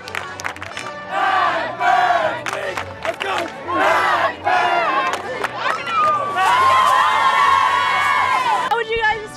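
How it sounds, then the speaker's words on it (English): A packed crowd in the stands at a high school home football game cheers loudly, sustained shouting and whoops rising and falling with a long high yell near the end, close and dense. "Everyone's excited, cheering loudly, and the stands are packed."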